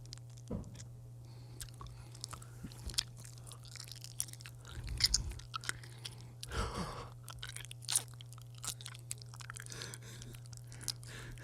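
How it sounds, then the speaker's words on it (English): Turkish delight being bitten and chewed close up, with soft, wet, squishy chewing and occasional crunchy bites spread over several seconds over a steady low hum, with no talking. "I have some Turkish delight here. I'm gonna take a bite and tell you how good it is."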